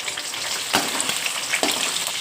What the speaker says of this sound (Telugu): ఇప్పుడు నూనె వేసాం కదండి, నూనె కాగింది. రొయ్యలు వేసేసాం.